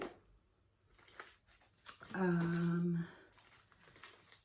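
Crisp snipping and metallic scissor handling with rustling, plus a sustained tonal hum in the middle; brief voice fragments in the background.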